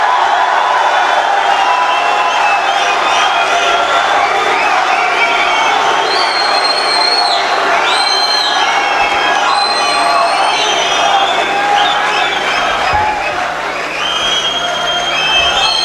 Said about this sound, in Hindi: भरपूर तालियों में इस्तकबाल कीजिएगा